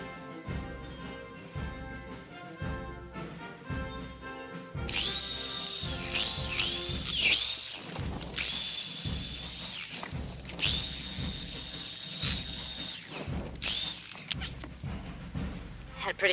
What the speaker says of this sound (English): we're going to move back to the roto hammer and just bounce between the roto hammer